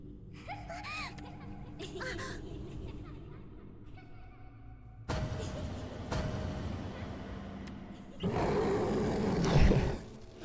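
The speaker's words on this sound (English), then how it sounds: "I think it's funny that it makes like a animal roar noise" An animal-like roar in the Pocket Mirror game, a rough, rising growl that swells loudly near the end over busy game effects and music.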